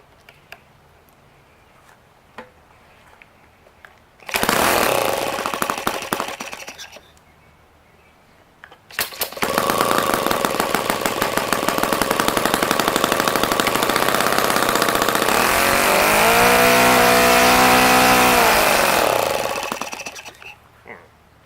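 An OS FS-120 four-stroke model engine on its first run sputters briefly to life, cuts out, then restarts and runs loud and steady with a buzzing drone for over ten seconds before dying away.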